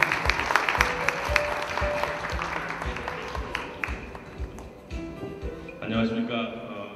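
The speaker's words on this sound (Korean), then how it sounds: "큰 박수로 맞이해 주시기 바랍니다." An audience at a smart-app awards ceremony claps to welcome a keynote speaker, a fairly soft patter of applause that thins out toward the end, with speech present.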